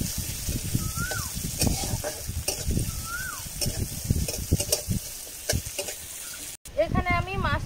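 Chopped onion goes into hot oil with five-spice for a thin singi fish curry. A loud, continuous sizzle runs under scraping stirs, with a few faint high chirps in the background.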